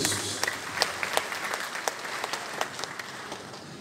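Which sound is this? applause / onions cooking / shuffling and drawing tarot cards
applause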